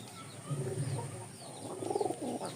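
Quiet pigeon cooing, a couple of low throaty calls close by, with faint chirps and a soft hiss of room noise behind.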